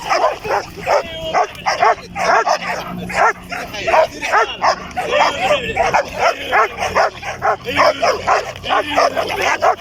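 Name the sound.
Belgian Malinois dog barking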